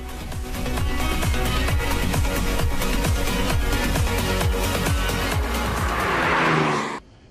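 A BMW i8 hybrid sports car revs hard and continuously on a test track, cycling up and down through gears at speed, with no talking, before cutting off sharply.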